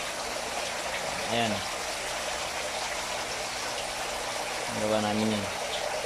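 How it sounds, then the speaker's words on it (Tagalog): A water pump runs in a homemade fishpond, making a continuous gushing, splashing flow of water heard close, while someone talks briefly over it. "Ito yung pump. Pump yan."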